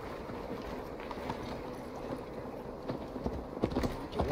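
Rhythmic clip-clop of horse hooves on a ride in the Viking-era game Assassin's Creed Valhalla, a steady close gallop under low ambient wind, growing louder and more pronounced toward the end.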